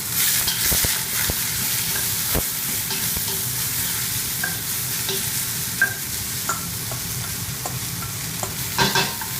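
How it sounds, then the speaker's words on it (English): Leeks sizzle steadily in a hot pan while being stirred, a continuous close frying hiss with occasional scraping and clinks of the utensil, and no voices. "and then the leeks are going to go in"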